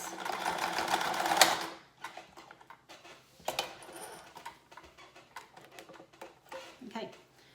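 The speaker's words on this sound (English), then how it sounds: "You're just sewing just another strip here that will be like a ruffle on top of your valance." A sewing machine stitches a ruffle strip for a window valance, running loudly for a moment before dropping to softer, intermittent mechanical clatter, with a voice talking over it.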